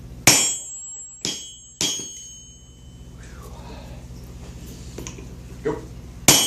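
Hammer blows on hot metal at a forge, struck together with a striker: three sharp ringing hits early on, then quieter clanks and a few more strikes further apart, with a steady hum underneath.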